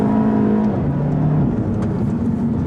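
2014 Audi TT 45 TFSI heard from close by, a loud steady engine note rising under acceleration, then a drop in pitch at a gear shift before climbing again, no voices.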